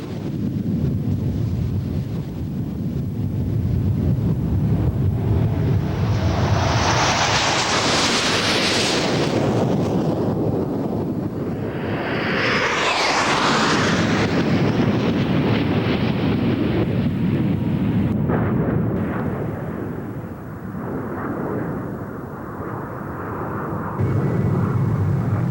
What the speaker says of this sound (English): a British aerobatic team composed of 9 frontline fighter aircraft.